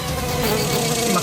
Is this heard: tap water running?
no